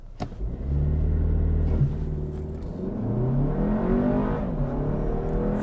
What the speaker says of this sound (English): Feels good off the line. The engine also likes to rev.